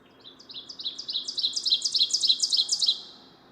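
A warbler's song is played back from a recording, a bright series of repeated two-note teacher-teacher phrases that build in loudness and then end abruptly, clear over faint background hiss.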